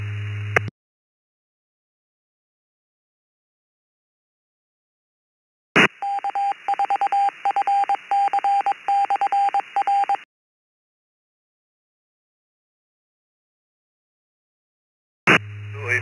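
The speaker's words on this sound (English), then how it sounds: "I had to wait for my repeater to get done identifying itself there in Morse code" An amateur radio repeater identifies itself in Morse code, a steady pitched tone keyed into rapid dots and dashes for about four seconds, loud and clean, framed by silence and short bursts of radio audio.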